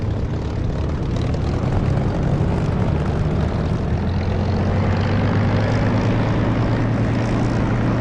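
A steady, loud aircraft engine drone with a low propeller-like hum, from a plane taxiing in the DCS flight simulator, running evenly and close throughout with no talking.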